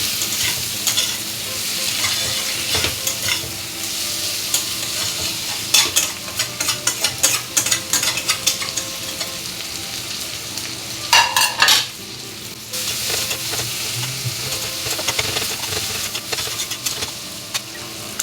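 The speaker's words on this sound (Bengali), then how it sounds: "এবার এটাকে ভালো করে কষিয়ে নেব আমি।" Tomato and chili fry and sizzle in a pan while a utensil stirs them, a steady close crackle with scraping strokes that briefly grow louder near the middle; nobody speaks.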